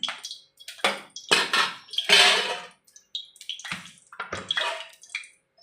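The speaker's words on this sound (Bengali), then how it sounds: "জল দিয়ে দিলাম" Water is poured into a cooking pan of hot oil while making doi katla fish curry, a series of close, splashing, gurgling bursts separated by short pauses.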